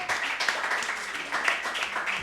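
Clapping from an audience at a school green quiz competition as round scores are announced: a continuous spread of many hands, moderately loud, with a few sharper claps standing out and a thump near the end.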